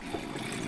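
Waterfall in the Minecraft video game, a short burst of steady rushing, gurgling water noise at moderate level with no voices.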